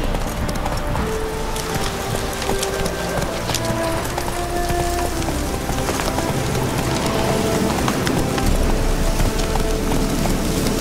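Hooves of the horse Roach galloping steadily in a video game, a fast, continuous clip-clop rhythm heard up close with music and ambient game sound underneath, no talking.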